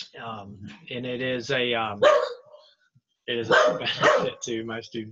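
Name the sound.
dog barking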